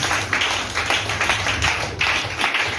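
A church congregation applauds together, a dense, steady wash of clapping with rhythmic surges that carries on for the whole moment without a break.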